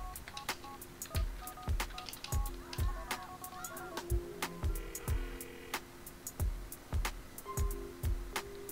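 A mobile phone in GTA 4 dials a cheat code, sounding as a string of short electronic key beeps and tones in an uneven rhythm, with sharp clicks between them. The beeps play alone and fairly quietly.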